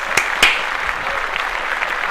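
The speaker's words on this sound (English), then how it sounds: "We're going to clap this up right away." A crowd claps steadily and continuously, with a couple of sharper, louder claps standing out near the start.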